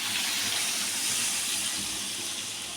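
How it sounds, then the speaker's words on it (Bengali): Hot water poured into a cooking pot of curry, a dense steady rushing splash with steamy hiss, close and loud throughout without a pause. "এখন আমি গরম জলটা দিব।"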